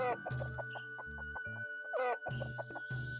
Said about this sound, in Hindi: वेंकटैया सुबह सुबह उठकर मुर्गियों के दड़बे के पास गया।